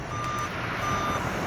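A lorry's reversing alarm beeps steadily and loudly in a fast repeating pattern over a constant background rumble, with no voices.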